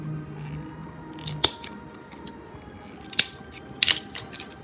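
Scissors snip through paper while craft furniture for a doll crib nursery is cut out: a few sharp, crisp cuts spaced apart over a quiet room background, with no talking.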